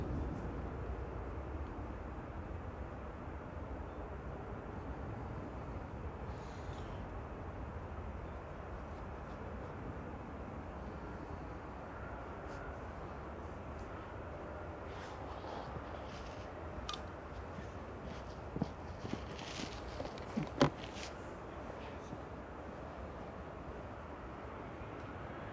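A Loganair aircraft, flight 592 heading back to Inverness, moves at Manchester Airport. It makes a faint, distant, steady engine rumble over outdoor ambience, with a few soft clicks near the end.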